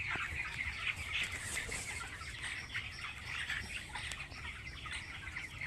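A flock of 19-day-old poultry chickens in a farm shed fills the space with continuous dense chirping and clucking, steady and moderately loud, with no clear voices.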